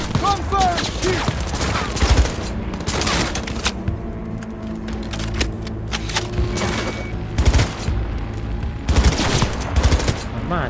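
Rapid bursts of automatic gunfire in Cyberpunk 2077, loud and close, volleys repeating across the stretch with short pauses between, while voices speak over the combat.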